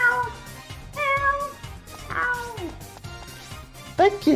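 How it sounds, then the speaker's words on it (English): A cat meows several times in drawn-out, wavering calls, close and clear, with a sharper yowl at the end, over a faint rhythmic background. "You gotta meow twice now."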